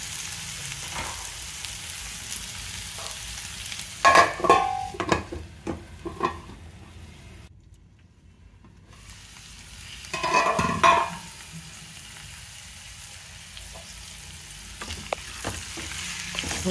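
Drumstick pieces stirred in a hot pan for drumstick and gram flour curry, a soft continuous sizzle broken by two bursts of scraping and clattering stirring, with a brief near-silent gap between them.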